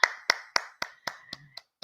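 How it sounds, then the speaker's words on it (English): Eight crisp hand claps fall in an even, steady rhythm, close and sharp, growing a little softer toward the end. "Hand clap."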